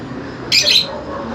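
Pet birds in an outdoor flight cage give a single brief, sharp squawk, loud and close against quiet background noise.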